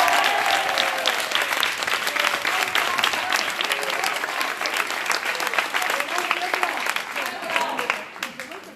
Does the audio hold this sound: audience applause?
yes